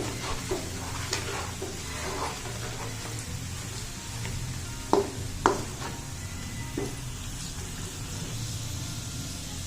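Chicken with coriander powder and spices is stirred in a pan, giving a low sizzle under scraping and clinking of the spoon, with a few sharper knocks against the pan.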